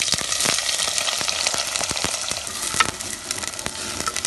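Onion hits hot oil with popping mustard and fenugreek seeds for a Kerala sardine curry, giving a close, steady sizzle with sharp crackles and spatters scattered throughout and no voices.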